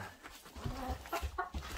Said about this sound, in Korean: 아, 숫닭이 화난 것 같아요.